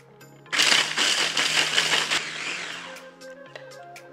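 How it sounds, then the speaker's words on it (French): A KitchenAid blender grinding ingredients into a fine powder for a CBD spread, a loud, close whirring burst of about two seconds that pulses and tapers off, followed by light clinks. "et là, on va mixer légèrement jusqu'à obtenir une petite poudre"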